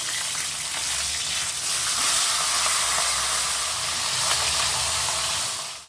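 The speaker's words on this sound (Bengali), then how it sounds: "এখন এটাকে আমি ঢাকা দিয়ে ভাজবো, যাতে তেল ছিটে গায়ে না আসে" A fish head fries in hot oil in a covered pan, giving a loud, continuous sizzle and crackle that stays even throughout without any voices.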